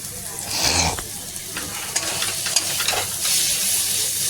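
Night-time home cooking with food frying and sizzling in a pan, a steady hiss broken by stirring scrapes and clinks, close and fairly loud throughout without speech.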